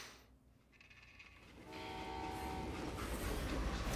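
A train in the Call of Juarez Gunslinger game rumbles in and grows louder, with clattering wheels and a sustained horn-like tone building over several seconds.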